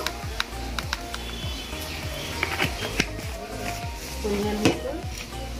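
Coriander, cumin and chilli paste goes into a pan for a beef and potato curry, a continuous sizzle with repeated scraping stirs and light clinks of a utensil, close and steady.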